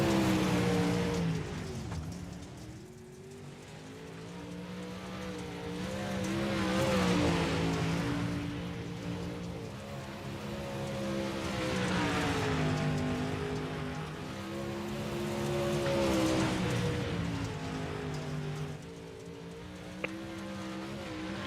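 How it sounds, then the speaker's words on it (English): Race cars circling a dirt oval track, engines rising and falling in repeated swells as they pass at middle distance, a continuous roar with a sharp click near the end. "A couple more cars out on the track now."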